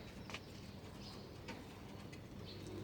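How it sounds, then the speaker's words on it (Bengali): A pet pigeon in its cage coos faintly amid low background noise, with a few soft calls and brief chirps spread across the moment. "এই যে আমার কবুতর"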